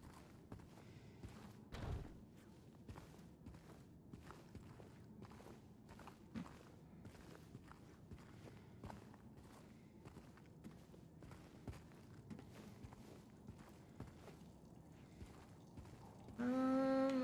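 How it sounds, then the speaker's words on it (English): Heavy stomping footsteps in Silent Hill 2 Remake, a long run of evenly spaced thudding steps, fairly close and distinct against a quiet dark backdrop, ending in a sudden tonal sting. "That's some loud ass stomping."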